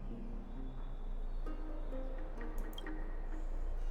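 Water drips and splashes softly in a bathhouse in the video game Honkai Star Rail, with light liquid plinks over a low steady ambient hum and no voices.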